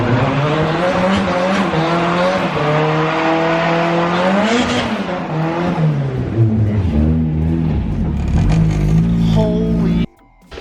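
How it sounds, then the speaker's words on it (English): A Nissan S13 engine revs hard with screeching tires, a sustained loud burnout at a car wash that cuts off abruptly near the end. "if you don't do a burnout at the car wash, did you get your car washed really?"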